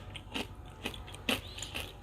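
Someone bites into crunchy homemade candied pecans, making five crisp crunches spaced about half a second apart. The sound is close and fairly quiet, with no talking.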